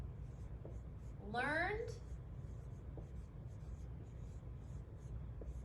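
Pen or pencil writing on paper makes a brief, close scratching stroke, faint and quick, heard alongside quiet speech.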